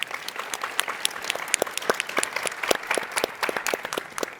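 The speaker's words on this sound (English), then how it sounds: "Give them a round of applause." Audience applause at a tech startup pitch competition session, a crowd clapping briskly with sharp, distinct hand claps layered over a continuous patter, lively and steady from start to finish.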